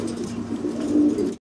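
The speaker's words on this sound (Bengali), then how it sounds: "এটা ক্রিমবার অরিজিনাল এক জোড়ার কবুতর ভাই" A pair of original Creamber pigeons coo close and loud in one continuous throaty rumble that cuts off abruptly.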